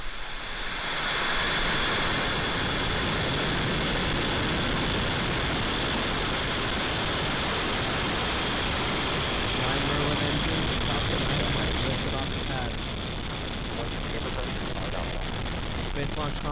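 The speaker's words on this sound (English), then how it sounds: "T-minus 5, 4, 3, 2, 1, 0. Ignition." SpaceX Falcon 9 rocket engines igniting and lifting off from Space Launch Complex 40 at Cape Canaveral, Florida: a broad roar swells within the first two seconds, then rumbles loud and sustained, easing slightly near the end.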